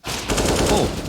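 In a professional Counter-Strike match on the Anubis map at IEM Katowice 2023, a gun fires one short, loud, rapid burst that cracks close and dense.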